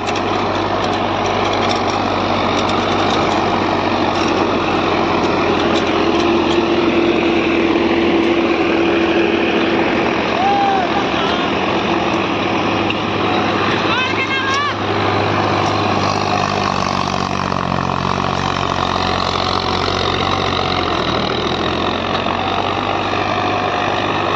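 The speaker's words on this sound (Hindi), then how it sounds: "ट्रैक्टर बहुत ही शानदार परफॉर्मेंस पे नौ नौ की हरों पे 1700 आरपीएम पे चल रहा है" A tractor engine runs steadily at 1700 rpm while pulling a 9x9 disc harrow with thick, unsharpened discs through a field on its first outing. The drone is loud, close and continuous, with no talk.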